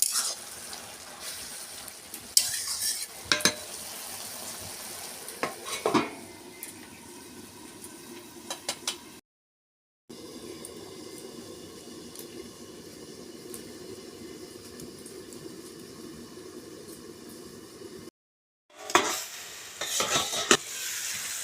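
Fresh homegrown bottle gourd fries and is stirred in a pan for lau chhechki, a soft continuous sizzle with intermittent scraping and clattering of the spoon, close by, with brief breaks in the sound.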